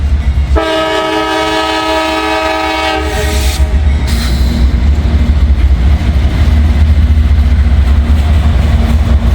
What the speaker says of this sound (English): Looks like a brand new locomotive or a brand new rebuild.